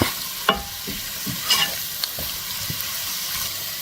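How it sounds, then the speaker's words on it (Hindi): Tomatoes fried into a spice masala in a pan, with a steady close sizzle broken by several sharp scraping and stirring strokes, no voices. "टमाटर डाल के अब हम इसको टाइट सा भून लेंगे"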